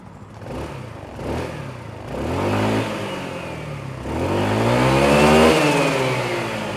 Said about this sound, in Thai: มีวัดรอบแล้วเดี๋ยวเบิ้ลให้ดู